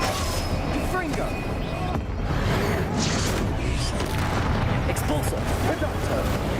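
The Confringo fire spell from Hogwarts Legacy sends out explosive blasts, heard as dense, roaring bursts layered over continuous loud combat noise throughout.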